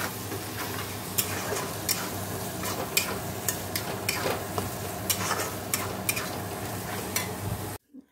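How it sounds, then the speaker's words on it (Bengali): Deboned fish fries in a hot pan with a constant crackling sizzle, punctuated by regular taps and scrapes of a utensil roughly every second, before the sound cuts off abruptly. "দেখো মাছের এই যে কাঁটাগুলো ছাড়িয়ে নিলাম, এবার ভালো করে ভেজে নেব।"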